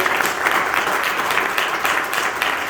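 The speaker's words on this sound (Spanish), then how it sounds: "¿Pueden dar un aplauso de alabanza al Señor?" A church congregation claps together in praise, a dense, even wash of applause that fills the room steadily throughout.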